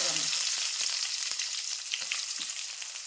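Finely chopped onion fries in oil left from frying paneer, a bright steady sizzle with soft stirring clicks, close and constant throughout.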